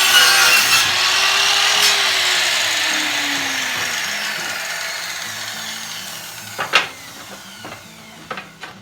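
A power saw cutting wood pieces flush for a cabin finish, a loud close whining rasp that slowly fades and gives way to a few sharp knocks and clatters of wood.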